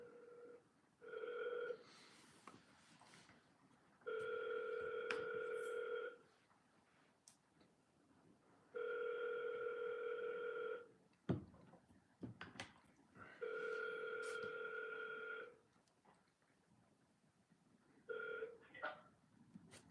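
Ringback tone on an outgoing phone call that goes unanswered, with several long repeating ring bursts separated by pauses, faint line noise and small clicks in between.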